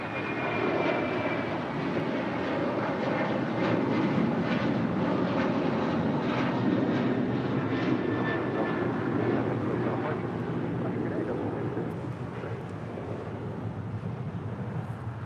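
A jet airliner takes off from runway 25 right at LAX, its engines making a steady, loud broadband roar that holds throughout and eases slightly near the end, with wind buffeting the microphone.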